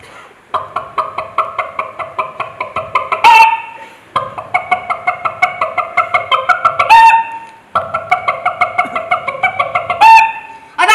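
A voice at a Kerala State School Arts Festival mimicry performance imitates a hen's cackle after laying an egg, rapid rhythmic clucks building to a loud squawk, repeated three times, close and clear.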